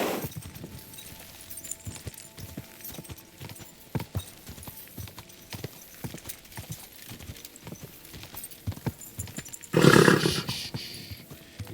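A horse in the game Kingdom Come Deliverance 2 clops along with steady, irregular hoofbeats at close range. Near the end a loud, brief whinny or snort bursts out above the hooves.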